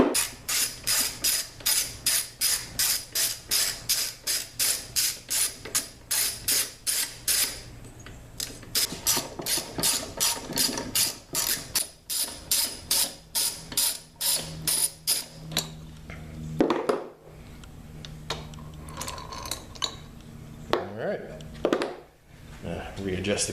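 A hand ratchet clicks in fast, even bursts while loosening 12 mm bolts on a seized Predator 212 small engine that was left outside for five years. Pauses, metal clanks and a few creaks follow as the bolts come free.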